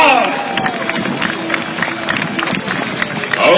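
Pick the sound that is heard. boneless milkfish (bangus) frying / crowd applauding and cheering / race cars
crowd applauding and cheering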